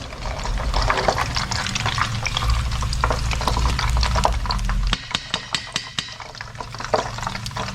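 Spring rolls are scooped out of hot frying oil: a dense, steady sizzle for about five seconds, then the bubbling thins to sparse crackles and a few sharp clinks of a utensil against the pan. No one speaks.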